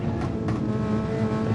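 A race car engine in a racing video game drones loudly and steadily with a layered buzzing tone, holding at high revs under light throttle; no talking.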